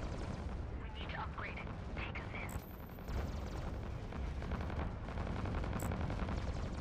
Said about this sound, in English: so I'm going to continue firing here